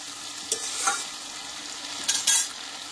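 Fish bladders fry in rendered fish oil with a steady crackling sizzle, while a few brisk scraping stirs rise above it.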